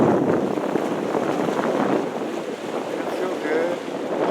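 Steady wind rushes past a single-handed sailboat on San Francisco Bay, a continuous close roar with microphone buffeting and faint water wash underneath.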